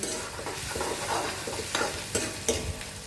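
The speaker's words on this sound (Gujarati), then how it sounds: "આદુ લસણની પેસ્ટ નાખી આનો થોડું થવા દઈએ" Ginger garlic paste with chili and asafoetida sizzles in hot oil while a spoon stirs it, giving close, crackling frying noise broken by sharp scraping strokes, with no voices.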